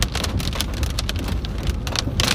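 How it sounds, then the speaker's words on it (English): Hail pours down during a storm chase in western Oklahoma, a loud, dense, constant clatter and roar of falling ice striking surfaces, with no talking. "Starting to get hail."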